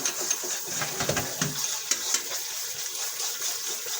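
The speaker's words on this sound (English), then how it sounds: "you are going to rinse these shells in some cold water" Cold tap water runs and splashes steadily over cooked pasta shells being rinsed in a kitchen, a continuous hissing stream with a few clatters and knocks near the start.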